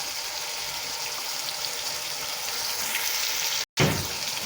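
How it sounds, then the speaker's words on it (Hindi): Ground red chili, coriander and turmeric fry in a pan with a splash of water for Kashmiri dal, giving a steady close sizzle that cuts out briefly then resumes loudly. "साथ ही इसमें थोड़ा सा पानी शामिल करके, ताकि मसाले जले नहीं, इसको मज़ीद हम थोड़ा सा फ्राई कर देंगे।"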